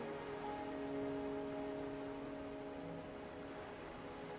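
Steady rainfall in a video game, a continuous even hiss of drops on surfaces, with a low tonal hum of game ambience beneath and no voices.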